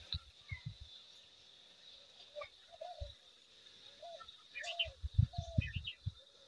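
Outdoors in a village, birds give faint, scattered short calls and chirps over a soft breeze, mostly in the second half, with light low thumps nearby.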